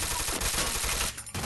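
Gunfire in Counter-Strike, a loud rapid string of shots crackling almost continuously close by, with a brief gap near the end before firing resumes.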